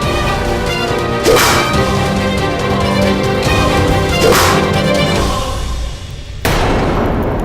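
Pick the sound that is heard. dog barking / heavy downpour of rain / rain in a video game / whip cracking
whip cracking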